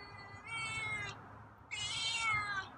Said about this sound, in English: Oh, wow, you got a meow for me